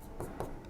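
Marker or chalk strokes on a classroom board, two short scratchy bursts a fraction of a second apart, faint and close, with no voice over them.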